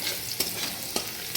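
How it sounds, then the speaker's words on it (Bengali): Garlicky greens tempered in a pan with crushed garlic, a soft continuous sizzle broken by several sharp stirring scrapes, close and moderately quiet. "রসুন ছেঁচে রেখেছি, দিয়ে পরে ছকে নিচ্ছি।"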